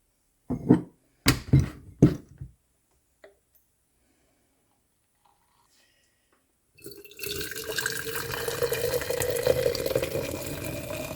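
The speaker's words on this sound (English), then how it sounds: "My kettle's now boiled, so I'm going to make my hot lemon water." After a few sharp clinks from a lemon squeezer and a glass mason jar, freshly boiled kettle water pours steadily and fairly close into the jar for hot lemon water, running unbroken for several seconds.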